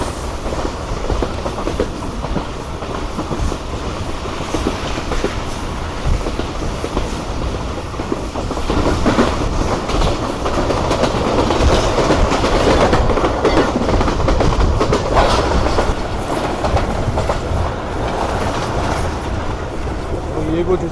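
A crowded passenger railcar runs steadily along the rails, its low rumble and wheel clatter continuous and close, growing a little louder midway as the train approaches a station, with some faint talk mixed in.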